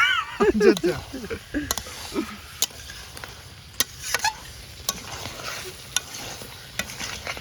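A spatula stirs chicken kosha in a frying pan, with repeated scraping strokes and clicks over a soft sizzle, and a person talks near the start.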